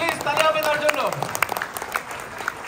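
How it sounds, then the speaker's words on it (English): Audience applause at a DXN 32nd anniversary event at Cyberville rises in a loose wash of clapping, with a voice and some tonal sound running over the first half before the claps thin out. "Round of applause for him, please"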